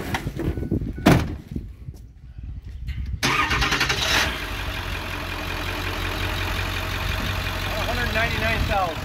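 A 2002 Ford F250 Super Duty Lariat with the 7.3L diesel cranks and roars to life after a door thunk, then settles into a loud, steady diesel idle close by.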